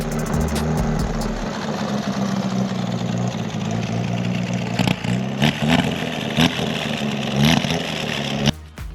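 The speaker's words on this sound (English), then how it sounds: "Austin drove the D-Type onto the recovery truck" A Jaguar D-Type from a barn find collection runs as it is driven onto a recovery truck, its engine droning loudly and steadily up close, with a few throttle blips before cutting off abruptly near the end.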